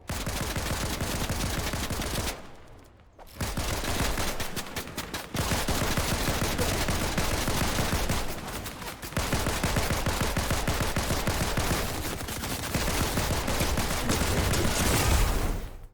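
Dense rapid gunfire from several players in a Fortnite cash cup match, loud and nearly continuous bursts with a few short pauses, no talking.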